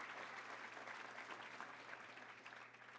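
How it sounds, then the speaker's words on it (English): Applause from a crowd at a Little Rock Touchdown Club luncheon, steady dense clapping at moderate distance with a faint low hum underneath, sustained for the whole stretch and tapering slightly at the end. "Please stand and let us give you a round of applause."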